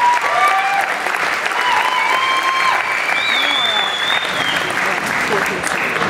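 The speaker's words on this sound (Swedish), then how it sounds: "vi kör en applåd så de får känna sig lite rättiga" Dense crowd applause for performers on stage at a Lucia competition in Stockholm, steady and loud throughout, with voices and whistles rising above it.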